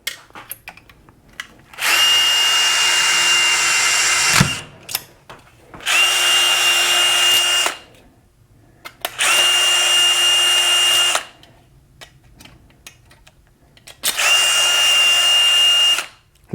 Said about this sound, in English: I'm gonna drill my hole.